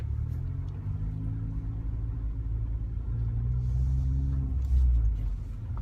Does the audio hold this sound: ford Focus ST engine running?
yes